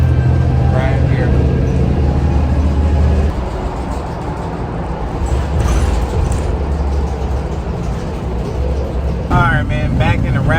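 Riding inside a bus, a loud, steady low engine rumble and road noise fill the cabin, easing slightly midway, with faint rattles and a brief higher whine near the end.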